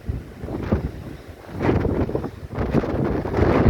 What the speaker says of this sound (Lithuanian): yra dar ir vėjas stiprus